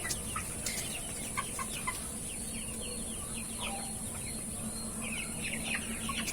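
A flock of Sonali chickens, about 45 days old and 750–900 grams, in a low shed with no electric fan during intense heat. Continuous overlapping clucks and chirps rise over a steady background hum, with no talking.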